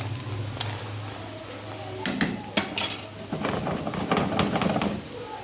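Metal spoon scraping and clinking against a pan while stirring kofta in tomato sauce in a home kitchen, quiet at first, then a run of sharp scrapes and taps close by.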